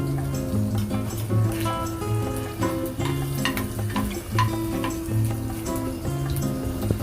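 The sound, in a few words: crushed garlic frying in oil for tempering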